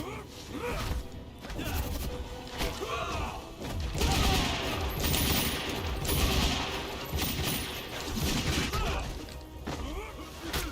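Rapid pistol fire in a fighting video game, repeated EX pistol attacks landing in a dense, loud barrage of cracks and impacts that runs for about ten seconds with little pause.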